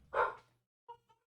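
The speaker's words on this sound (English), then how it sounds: "if you can hear the dogs barking." Dogs indoors give one short muffled bark followed by two brief softer yips, fairly faint and close together, with no talk over them.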